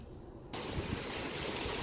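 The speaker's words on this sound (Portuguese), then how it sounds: "Tá ventando muito, muito, muito. Oi, tá chovendo também" Strong wind gusting outdoors during a typhoon storm with rain, a steady loud broadband roar that surges in abruptly after a quiet half-second and continues with rough buffeting.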